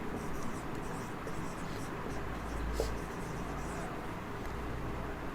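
Pen writing on paper for a class 8 maths exercise makes faint, close scratching strokes that run steadily over low background noise.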